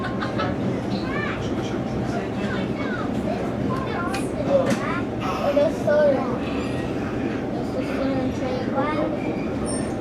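Missionary Ridge Local passenger train led by locomotive TAG #80 at the Tennessee Valley Railroad Museum in Chattanooga, heard riding aboard: a steady rumble and rattle of cars on track with occasional wheel squeals, under continuous talk.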